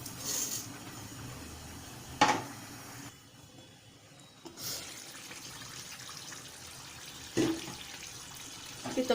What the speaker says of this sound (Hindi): और जब तक चावल हम अपने धो के रख लेंगे।